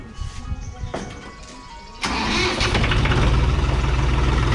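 A 1992 Mahindra 265 DI tractor engine cranks and catches with a sudden loud start, then settles into a steady, heavy diesel idle with a rhythmic throb, close by.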